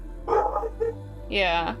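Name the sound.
dogs barking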